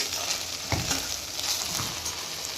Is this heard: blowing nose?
no